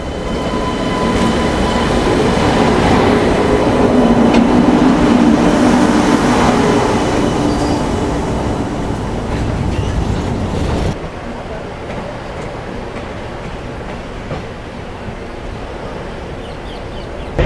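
The Coimbatore Express rumbles past at a railway crossing, a loud, steady roar of wheels and carriages that holds for about eleven seconds before abruptly dropping to a quieter, lingering rumble as the train clears.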